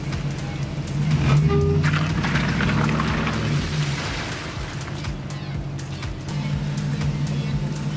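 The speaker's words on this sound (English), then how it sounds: "Now let's put it in drive again, and let's be really easy on the throttle this time." A car in drive creeping away gently on a slick winter road, a steady low engine hum with broadband road and tyre noise throughout, briefly swelling as it eases forward.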